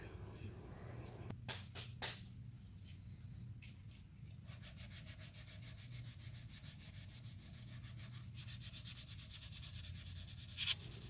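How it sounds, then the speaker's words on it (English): Sandpaper rubs over a Blitzer Beetle RC hardbody shell in steady strokes over a cloth, a continuous close scratchy texture with brief louder bursts, while low background noise hums underneath. "The whole process is just feeling, sanding, feeling, sanding, feeling, sanding."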